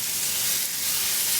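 Plant-based Impossible burger patty sizzling steadily in a hot pan, a close, continuous crackling fry with no talk over it.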